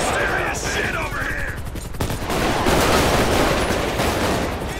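Rapid bursts of gunfire crackle close and loud in the video game LSPDFR police shootout with an armored suspect, followed by a sustained rumbling blast of heavy fire and explosions; a voice is briefly heard early on.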